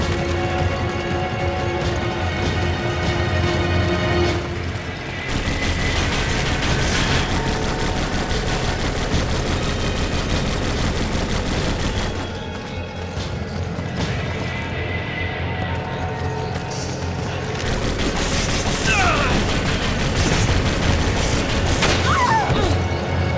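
Enemy gunfire in the Resident Evil 5 video game: dense, loud bursts of shots and impacts crash almost continuously, briefly easing around the fifth and twelfth seconds before resuming with sharp metallic hits.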